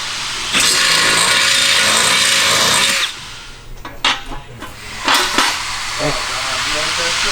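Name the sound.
power tool widening holes in an engine windage tray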